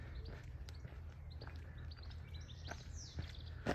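Birds sing near a river in the Cotswolds, near Upper and Lower Slaughter, with faint scattered chirps and short song phrases over a low, steady background hum.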